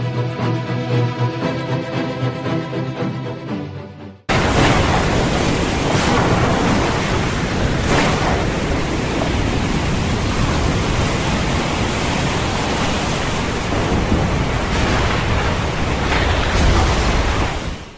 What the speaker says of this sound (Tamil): இறுதி நாட்களில் கடல் கொந்தளிக்கும்.